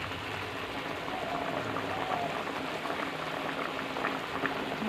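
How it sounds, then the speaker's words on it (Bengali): A wok of prawn curry with yam and potato in a thin gravy simmers at a steady, soft bubbling boil, heard close and fairly quiet with no talk. "আর এখন কড়াই তরকারি ফুটছে।"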